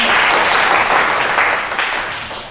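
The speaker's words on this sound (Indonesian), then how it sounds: "Tepuk tangan." Students in a physical education class on the long jump clap together in a brief, loud burst of applause that fades out over about two seconds.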